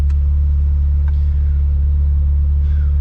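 Ferrari F355 Berlinetta engine with 385 horsepower, heard from inside while driving: a loud, steady, deep low drone that holds constant throughout, with a few faint higher chirps on top.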